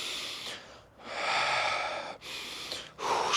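Deliberate Systema breathing exercise: strong, audible breaths drawn in and pushed out through the nose and mouth, close and loud in a slow rhythm of long inhales and exhales, with no talking.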